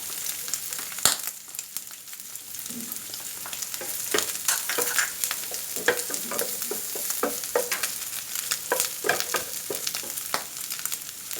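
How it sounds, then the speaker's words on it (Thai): Garlic frying in rendered pork belly fat, a continuous close sizzle broken by frequent crackles and stirring clicks from a utensil in the pan, steady and fairly loud throughout with no voices. "พอสุกเริ่มได้ที่แล้วก็ จะมีน้ำมันออกมาอย่างนี้นะครับ ก็ เราใส่กระเทียมไปครับ"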